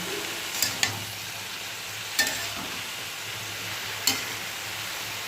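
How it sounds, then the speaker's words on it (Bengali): Snake gourd being stirred in a pan with salt and turmeric, a quiet steady sizzle broken by a few sharp scraping clacks of the spoon against the pan, with no talk. "এবার ভালো করে নেড়ে এটা মিশিয়ে নিতে হবে"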